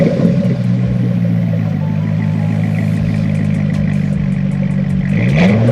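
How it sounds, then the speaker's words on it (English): A Corvette's LS V8 with a performance exhaust runs loud and steady, a deep throbbing rumble with a slight rise in revs near the end. "The LS motor in this car just sounds excellent, and that performance exhaust really helps bring out that sound."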